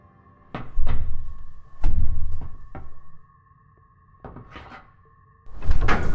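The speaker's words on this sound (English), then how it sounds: "The door's stuck!" A stuck cupboard door pushed and rattled, giving several loud knocks and thuds in uneven bursts with short pauses, over a faint steady tonal hum.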